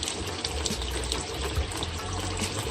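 Tap water pours steadily into a drained goldfish tub being refilled, a continuous close splashing rush with no talk over it.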